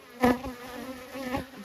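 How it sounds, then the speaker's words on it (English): Honey bees buzzing close to the microphone during a hive inspection, a steady hum with a couple of louder passes as individual bees fly near. "But the bees are calm and very intent on doing their job."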